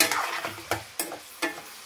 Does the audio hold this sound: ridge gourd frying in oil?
yes